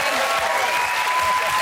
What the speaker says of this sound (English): Round of applause, they got it right.